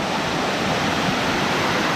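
Rushing waterfall at Hagdan Hagdang Paraiso, a loud, dense and continuous roar of falling water heard up close, steady throughout with no voices.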